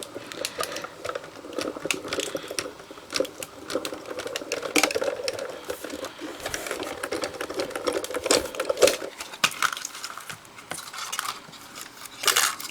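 A Diamond Press die-cutting machine feeding paper strips through, a close, continuous mechanical whirring and rattling with busy clicks and ticks, no voices.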